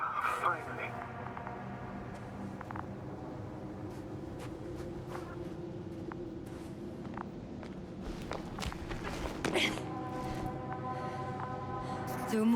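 Footsteps in the video game The Invincible, a steady run of crunching steps against ambient hum, with talk heard over them.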